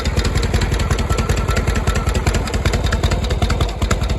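A 1972 Harley-Davidson FX with a shovelhead engine idles close and loud in a steady, loping rhythm throughout, with no voices over it.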